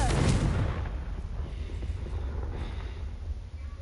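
A Confringo blasting spell explodes in the video game Hogwarts Legacy, a loud deep boom at the start that decays into a long rumbling, wind-like roar over several seconds, with no voices.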